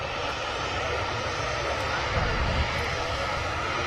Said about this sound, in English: There's a Ryanair 737-800.